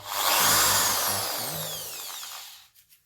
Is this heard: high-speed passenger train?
no